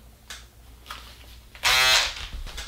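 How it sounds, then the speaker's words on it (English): A BaByliss FX02 electric foil shaver switches on for under half a second, giving a loud, close, rattling buzz, surrounded by faint handling knocks before and after. "Now you got the Babyliss foil shaver."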